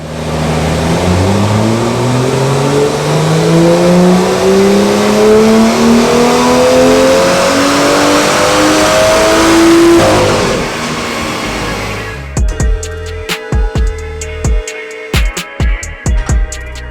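A BMW F87 M2 GTS revs hard on a dyno, its engine note climbing steadily and loudly for about ten seconds before cutting off, followed by crackling, popping deceleration bursts.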